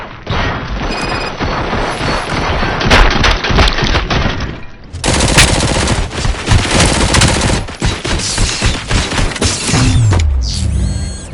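Dense, loud gunfire in the video game RoboCop: Rogue City, rapid automatic bursts mixed with heavy impacts, crashes and mechanical clatter, sustained for several seconds with a brief pause midway.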